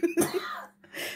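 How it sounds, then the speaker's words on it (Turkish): A short burst of coughing, two or three harsh hacks close together, followed by a softer throat sound after a brief pause, heard up close in a quiet home. "Böyle öksürüyoruz işte ya."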